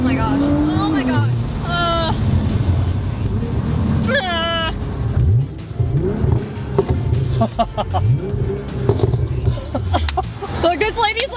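A built Nissan R35 GTR drives on the road, its engine note rising and falling in repeated revving sweeps, while excited people talk loudly over it.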